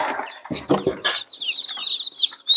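Backyard meat chickens, raised for home processing, give a few close, sharp clucks and squawks. A thin, wavering high call then runs steadily to the end.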